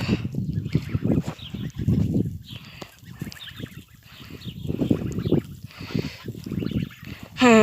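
Repeated honking calls from geese in short bursts, fairly close, with a harsh squawk near the end over background outdoor noise.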